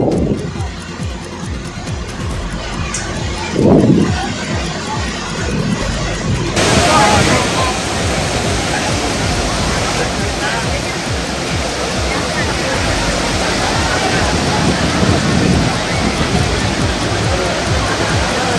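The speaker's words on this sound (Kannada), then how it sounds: "ಭರಚುಕ್ಕಿ ಜಲಪಾತ ಭೋರ್ಗರೆದು ದುಮ್ಮಿಕ್ತಾ ಇದೆ" Bharachukki waterfall in Karnataka, swollen by river water released from the KRS and Kabini dams, roars as a dense, loud, continuous wash that surges louder partway through, with a narrator talking over it.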